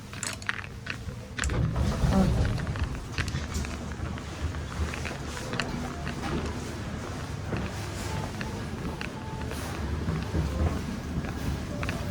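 Steady wind buffeting and rumbling close to the microphone, with low gusty noise throughout and some faint clatter.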